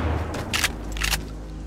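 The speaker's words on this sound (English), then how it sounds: "The gunfire attracted them." Gunfire in the video game DayZ: two quick bursts of shots a half-second apart over a low rumbling background, with no talking.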